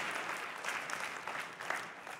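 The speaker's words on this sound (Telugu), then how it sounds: "ఒకసారి చప్పట్లు కొడదాం" A church congregation applauding during a sermon, a steady wash of many hands clapping together, fairly distant and soft, continuous with slight swells and no talk over it.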